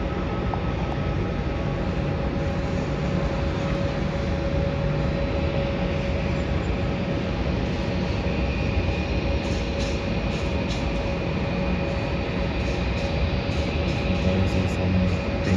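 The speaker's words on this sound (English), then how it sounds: "The flight that's departing now is a flight to Adelaide, Virgin Australia" Virgin Australia airliner departing Melbourne Airport for Adelaide, heard as a steady, broad jet roar that holds at an even level throughout with a constant whine, no talking over it.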